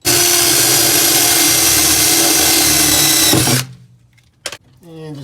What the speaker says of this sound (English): then use my drill to tap the screws